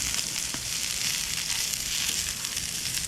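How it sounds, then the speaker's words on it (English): Steady crackling sizzle of onions browning in a hot pan, close and continuous with small pops. "We're just browning the onions for now, and you can hear that sizzling noise."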